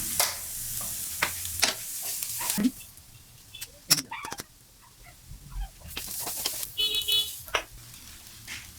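Onions with a little salt sautéing in a pan for masala dosa filling, a steady sizzle broken by scraping stirs and short clatters, fairly close and with no talking.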